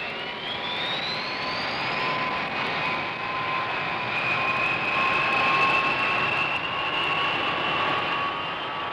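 B-52 bomber jet engines running on the ground, a loud continuous roar with rising whine tones that swells slightly midway and stays steady throughout.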